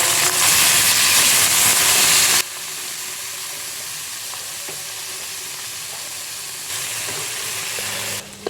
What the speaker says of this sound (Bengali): আর এইদিকে ট্যাংরা মাছগুলোকে ভেজে নিতেছি।